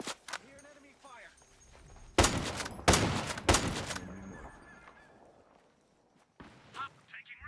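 Gunfire in the Ghost Recon Breakpoint video game during a custom PvP match at an R&D centre: several loud, sharp bursts of shots close by, mixed with footsteps, movement noises and brief voices, then quiet.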